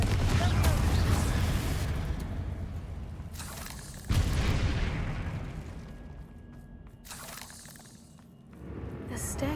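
Confringo spell explosions in Hogwarts Legacy during a fight with spiders, deep booming blasts with crackling debris and rumbling tails, one sharp burst midway, with a voice speaking over the action.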